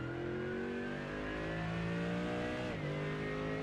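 GT3 race car in iRacing at Road Atlanta, its engine revving loudly and continuously with rising pitch, then a quick dip at a gear change before climbing again, with no talking.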